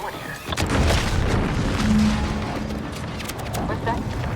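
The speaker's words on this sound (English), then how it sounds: "What's that? An explosion?" An explosion in the video game The Outer Worlds 2 rolls out as a loud, deep boom and rumble that lingers for several seconds, with speech over it.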